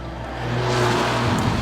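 A Mercedes-AMG A45 five-door hatchback engine revs up, its note rising and swelling loud and close, with no talking.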